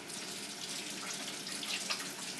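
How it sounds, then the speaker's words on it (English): A kitchen tap runs steadily while hands are washed, making a close, continuous splashing rush of water into a sink with slight fluctuations and no speech. "Let me do a quick wash of the hands just in case."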